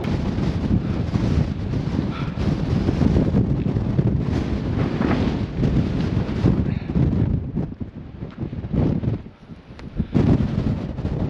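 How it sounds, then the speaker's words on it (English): Strong gusting wind on a mountain summit near Taos, New Mexico roars and buffets the microphone almost continuously, with a brief lull near the end before the blasts return. "I can barely stand in this wind."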